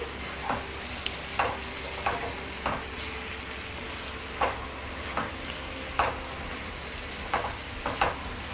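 A spoon stirs an onion egg fry in a frying pan over low flame, steady close sizzling broken by about a dozen short scraping clinks of the utensil against the pan at an uneven rhythm, with no talking.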